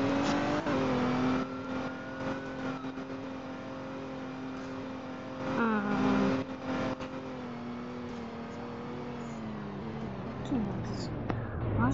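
A car drives along a road, its engine humming steadily with rising and falling pitch as it speeds up and slows, with occasional bursts of road noise and people talking inside throughout.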